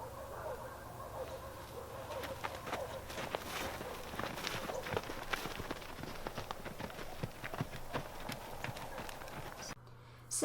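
Footsteps crossing a horse paddock toward a group of horses, a steady close rhythm of treads on ground under light outdoor ambience, continuing for several seconds.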